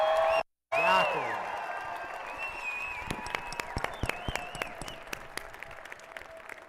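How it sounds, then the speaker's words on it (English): A live-stream audience claps steadily in a sustained round of applause that begins after a brief cheer and a short cut-off, then thins into scattered individual claps. "you would have clapped even more"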